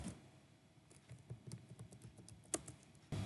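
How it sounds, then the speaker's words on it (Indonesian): Keys clatter on a computer keyboard as a command is typed in a quiet room, soft irregular taps with one sharper keystroke, close and fairly faint. "kita ketik perintah su, lalu nama user kita yang sebelumnya, yaitu ini Cantika."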